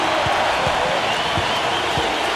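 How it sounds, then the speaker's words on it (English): Roaring crowd noise from an NBA 2K14 basketball game on PS3 after a shot, a steady, loud wash of cheering with no pause, plus a few low thumps beneath it. "That shot eliciting a roar from this gigantic crowd"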